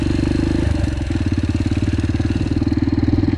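A Yamaha TTR 125L four-stroke motorcycle engine runs loud and close, its rapid pulsing throb steady at first, then rising and falling through quick revs with a rough, chattering exhaust beat.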